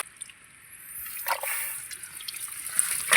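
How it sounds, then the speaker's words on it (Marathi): Water scooped and bailed out of a small puddle while catching fish: intermittent splashes and trickles, quiet and close, with a couple of sharper sloshes amid soft dripping. "इथं उपसतोय आता पाणी"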